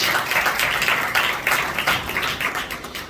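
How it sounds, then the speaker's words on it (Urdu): A church congregation applauds loudly during a sermon, dense sustained clapping from many hands that swells and dips in waves and fades slightly toward the end. "زوردار تالیاں بجائے اس بات کے لیے."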